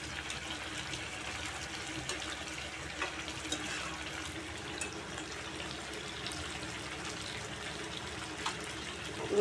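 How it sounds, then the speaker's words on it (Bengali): Hot water poured into chicken cooking in a pot gives a steady, moderate rush of liquid with a faint bubbling sizzle beneath, continuous and fairly close. "এবার গরম জল দিয়ে দেওয়া হবে"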